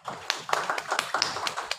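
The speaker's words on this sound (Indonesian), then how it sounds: "Tepuk tangan buat ketiga yang sudah menjawab pertanyaannya." Children in a classroom clap their hands, a short burst of quick, fairly soft claps in an uneven rhythm.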